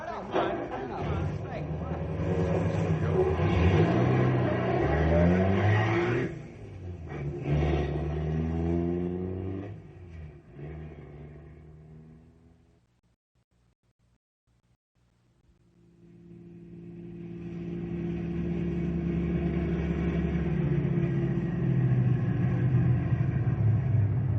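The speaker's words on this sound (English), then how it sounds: "Get my car." A car engine rumbles and revs loudly in an old radio drama scene, with shifting gear-like tones, fading out to near silence before another steady engine rumble swells back in.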